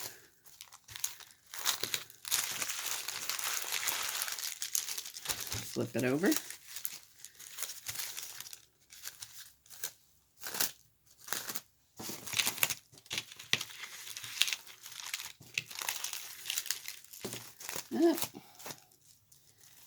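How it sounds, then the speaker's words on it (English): Parchment paper crinkles and rustles in bursts as it is handled and flipped over beside a plate, with a voice talking over and between the crumpling sounds. "I am going to include the top piece of parchment paper"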